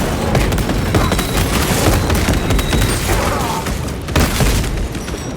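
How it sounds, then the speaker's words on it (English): A crack grenade explodes in the Warhammer 40K Space Marine 2 video game amid heavy combat. The booms and rumbling blasts are dense and loud, with rattling gunfire around them and a voice partly buried in the noise. "Throw the crack grenade!"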